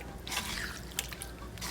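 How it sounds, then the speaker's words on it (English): Water trickling and dripping into a Jamaican curry shrimp pot, a steady soft pour with faint scraping, fairly quiet and close, with no talk. "You just add a little bit more water"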